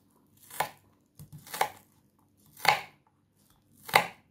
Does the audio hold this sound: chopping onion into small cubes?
yes